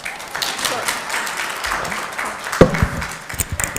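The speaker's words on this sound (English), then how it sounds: "You could clap. It's okay." Scattered applause from a small crowd at a B'nai Mitzvah service, a loose patter of claps with voices murmuring underneath, a few sharper claps standing out near the end.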